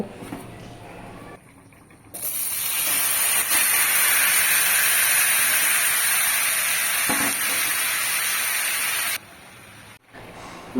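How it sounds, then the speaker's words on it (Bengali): Taro stolons and shrimp hit hot mustard oil on a flat griddle, a loud, steady broadband sizzle that starts abruptly, holds for about seven seconds, then drops away, with no talk. "সর্ষের তেলটা যেই গরম হয়ে যাবে, মেখে রাখা লতি আর চিংড়ি মাছ এর মধ্যে দিয়ে দেব।"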